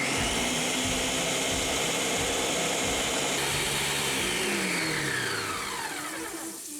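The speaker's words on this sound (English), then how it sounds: "we're gonna blend this on medium speed" A blender runs on medium speed, mixing Dutch baby pancake batter, a loud, steady motor whir whose pitch slides downward as it winds down near the end, with no talk.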